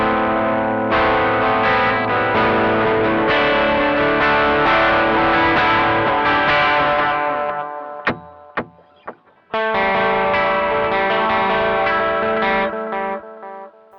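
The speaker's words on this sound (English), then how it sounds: "Really, really great analog delay sound for filling out." Electric guitar played through a Caline CP80 Ragnarok analog delay pedal, sustained chords ringing with warm repeating echoes and chorus-like shimmer, a brief pause with a few plucked notes before the full delayed wash returns, no talking.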